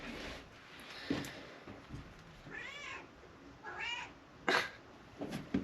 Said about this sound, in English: And I can hear Mr. Lance, that's my cat for you guys who don't know, crying at the door.